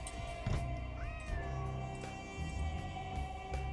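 A cat meows in the Nancy Drew: Secret of the Old Clock video game, a faint drawn-out call over a game soundtrack with background tones and soft thuds.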